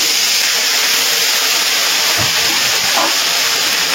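Ginger paste and green chilli paste go into hot oil for a Bengali vegetarian cabbage ghonto, giving a steady, loud, broadband sizzling hiss that holds evenly throughout with no voices.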